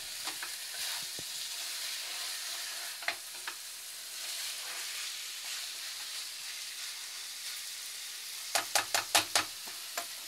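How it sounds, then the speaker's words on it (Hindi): Okra and chicken sizzle steadily in a pan on the stove, with occasional scraping stirs and a burst of clattering spoon strokes near the end. "दो मिनट हो गया है और इसे फिर से चलाएंगे"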